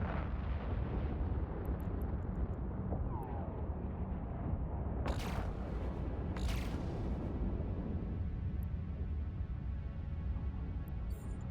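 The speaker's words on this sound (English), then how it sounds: "And just start bombing everything." Bombs detonate in EVE Online space combat, a sustained roaring wash of explosions with two sharp bursts standing out in the middle before the rumble eases off.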